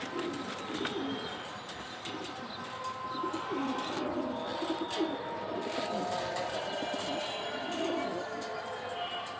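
A racing pigeon coos softly in repeated low bursts, close by but fairly quiet, with faint chirps and background noise around it.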